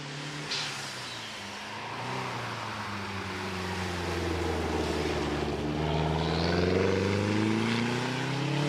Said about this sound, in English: Steve Cooper follows in the turbocharged Porsche 924